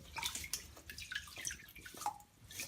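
Aquarium filter sponges from a Fluval FX6 canister filter are rinsed in a container of old tank water, giving irregular splashes, drips and sloshing squeezes up close, with brief quieter gaps between.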